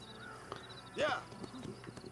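Horse in the Red Dead Redemption video game, the main horse most players get, snorting and giving a short whinny over soft hoof clops, close and moderately loud amid background game sounds.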